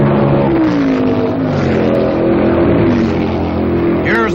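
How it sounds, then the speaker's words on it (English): A 1967 Can-Am race car roars through the Thunder Valley section at Road America, a loud sustained engine drone with a rising then falling pitch sweep as it passes, echoing and close. "Hume is really pushing it, blasting his way into an echo chamber called Thunder Valley"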